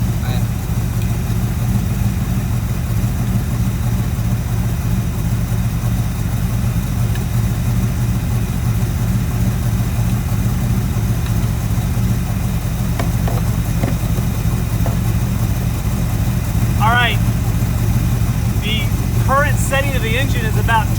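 A small-block Chevy 350 V8 in a 1974 Corvette idles steadily at close range while the distributor is turned, a constant low rumble with slight shifts in pace, and someone talks over it.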